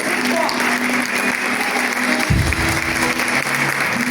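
A church congregation applauds during a Sunday family worship service, a dense, steady wash of clapping throughout with a low thump partway through and some voices mixed in.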